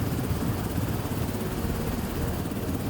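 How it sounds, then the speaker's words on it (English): An Alouette helicopter flying high over jungle canopy, heard as a steady, dense low rotor and engine roar with rushing wind noise, constant and loud throughout with no voices. "He boards an Alouette helicopter."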